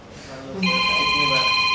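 A phone rings with an incoming call, its bright electronic ringtone cutting in after a short lead-in and holding steady and loud, with a voice faintly underneath.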